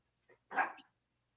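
A single dog barks nearby: one faint yip followed by a fuller, louder bark, with no other sound around it.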